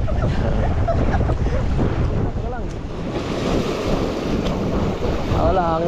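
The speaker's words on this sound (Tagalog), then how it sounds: "Wala, hangin lang." Strong wind gusting over the sea beside a boat, a loud, continuous rushing roar mixed with waves and buffeting on the microphone, with faint voices underneath.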